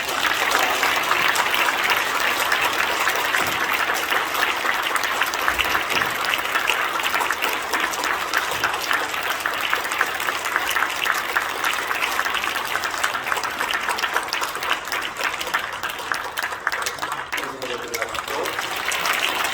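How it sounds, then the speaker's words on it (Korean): Congregation applause during a church retirement and ordination service honouring retiring elders, a long, dense wash of clapping that holds steady throughout and sits under a voice speaking over it. "그동안 노고에 대해서 뜨거운 박수로 감사합니다."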